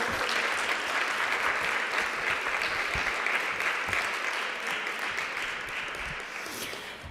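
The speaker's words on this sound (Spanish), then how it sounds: "Brindamos un gran aplauso." Steady, dense applause from a conference audience after a talk on student mental health, sustained for several seconds before easing slightly at the end.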